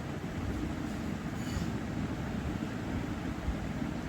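A sewing machine runs steadily, stitching gathers onto a round kameez made from printed yardage fabric, a continuous close mechanical drone with no pauses and no talk.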